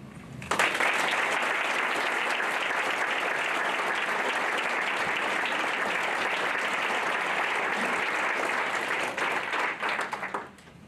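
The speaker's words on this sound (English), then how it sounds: "another round of applause for these extraordinary" An audience at a gala bursts into sustained applause, dense and even for about ten seconds before tapering off, close and loud with no talk over it.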